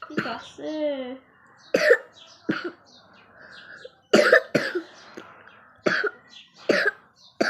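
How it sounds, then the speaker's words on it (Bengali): A child coughs in several sharp bursts spread across the clip, between stretches of someone talking nearby. "কি হলো তোর এত কাশি কেন হচ্ছে রে"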